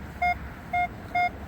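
Three evenly spaced, clear electronic tones from a metal detector pinging on a buried target near a river at a regatta site, each short and steady over quiet outdoor background.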